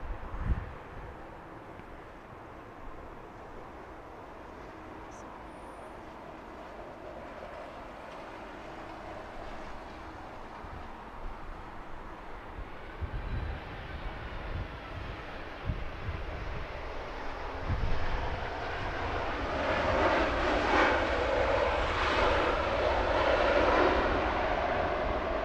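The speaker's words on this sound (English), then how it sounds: "So Cathay Pacific coming in from Hong Kong." A Cathay Pacific airliner arriving from Hong Kong at London Heathrow, its jet roar building slowly from a distant rumble to a louder, broadband whoosh toward the end, with no voices.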